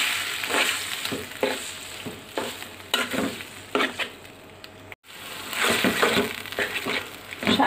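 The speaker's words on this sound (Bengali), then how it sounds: "শাকগুলো আমি নেড়ে সেড়ে একবারে শুকনো শুকনো করে রান্না করে নিব, ভাজির মতো করে।" Boiled taro leaves are stirred and fried in a pan. Repeated scraping strokes of the spatula sound over a constant close sizzle, with a brief pause midway.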